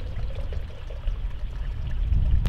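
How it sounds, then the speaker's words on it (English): Red wine is poured into a glass outdoors near the ocean, with a steady, close liquid pour running throughout against a low rumble of surf and wind. "pour myself a small glass of red wine"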